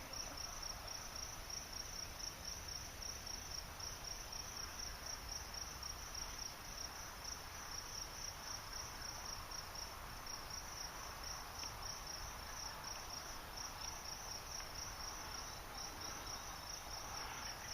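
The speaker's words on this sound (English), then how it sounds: "listen to all of the crickets in the background" Crickets chirp in a continuous high, fast pulsing trill during an afternoon hike, faint and steady throughout with no voices.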